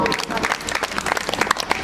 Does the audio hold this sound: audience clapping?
yes